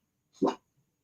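A mini Australian Shepherd gives one short, loud bark close by, followed by a faint trailing whimper and then silence.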